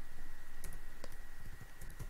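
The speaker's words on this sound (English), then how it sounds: "Then you can type any URL" Fingers typing a URL on a computer keyboard, a short run of soft, close key taps over a faint steady hum.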